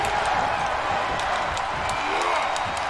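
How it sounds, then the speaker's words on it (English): A WWE 2K22 wrestling arena crowd roars in a dense, continuous wash of cheering and scattered clapping, loud and steady throughout. "The sound of this crowd is deafening"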